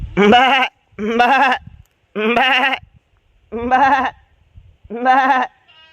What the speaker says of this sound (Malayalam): അപ്പുറത്ത് വീട്ടിൽ ആട്.